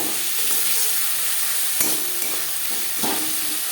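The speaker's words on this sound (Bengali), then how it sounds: "পেঁয়াজ টমেটোর সাথে আদা ও কাঁচা লঙ্কা বাটা বেশ ভালো করে মিক্স করে দেবো" Ginger and green chili paste being stirred into sizzling onion and tomato in a frying pan for a Bengali puti fish curry, steady frying hiss with a few scraping strokes of a spatula close by.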